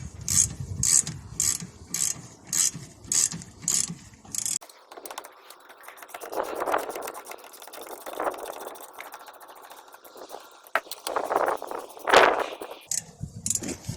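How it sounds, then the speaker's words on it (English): A ratchet driving a size 7 Allen key cracks loose the rear brake caliper bolts on a Mini Clubman, giving a run of quick metallic clicks followed by scattered ratcheting and tool clatter nearby. "going to use a size 7 Allen key. I'm using it on a ratchet"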